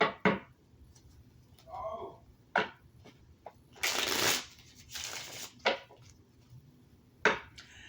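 Several short bursts of tarot cards being shuffled, riffling rapidly with brief pauses between, close and fairly crisp in a quiet room.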